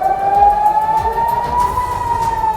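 A loud, sustained air raid warning siren during the Israel–Hamas war wails on one steady tone that slowly creeps upward in pitch, heard alone throughout.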